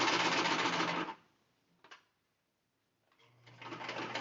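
Sewing machine stitching a safety seam on a fabric car trash bag with pockets, two close bursts of steady mechanical whirring separated by a short quiet pause with a faint click.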